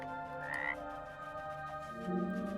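A frog croaks in the video game Everything, a couple of clear croaking calls over a steady layer of tonal game music, with no talking.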